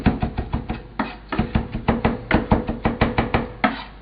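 A knife chopping fresh herbs such as parsley or cilantro for garnish on a board: rapid, close, rhythmic thuds in quick runs with brief pauses and no talking.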